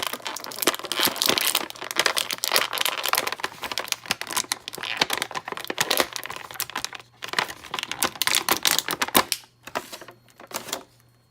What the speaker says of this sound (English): we're going to get Havoc free from his plastic prison. It's going to get a little loud